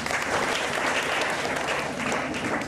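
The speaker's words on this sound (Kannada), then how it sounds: "ಎಲ್ಲ ಚಪ್ಪಾಳೆ ಕೊಟ್ಟು" An audience claps together after a speaker praises a correct answer at a talk about eye donation, a dense and steady round of applause that stays even throughout, with no one speaking.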